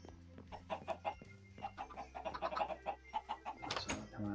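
A group of chickens clucking busily in the video game Farming Valley, overlapping short clucks in a quick uneven patter, soft and close with no talking.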